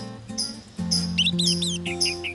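An orange-headed thrush (anis merah) gives a few short, high chirps and quick warbling notes over a steady low background hum, close and moderately loud.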